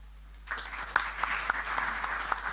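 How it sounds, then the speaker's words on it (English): Audience applause at the opening of an annual general meeting, rising after a moment of quiet into a steady spread of clapping with a few sharper claps, moderately distant. "We applaud you."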